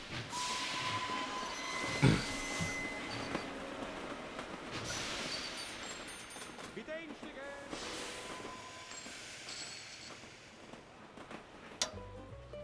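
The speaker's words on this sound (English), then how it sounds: "And one load of train cars, please." A freight train pulls a string of railroad cars in the Sid Meier's Railroads video game, rolling steadily with hissing steam and faint whistle tones, a sharp clank near the start and a spoken voice over it.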